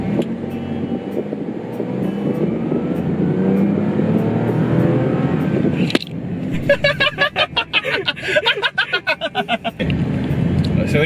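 A 2020 Perodua Axia pulls away from a standstill, its small engine rising in a steady drone, then a clatter and choppy pulsing bursts near the end, with a person talking over it.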